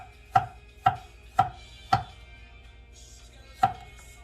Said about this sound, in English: Then we're just going to thinly slice it as a whole.